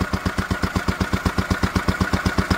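A Lister D stationary engine, an older restoration, idles with a steady, rapid, even thumping chug. It is close and loud, with no talk.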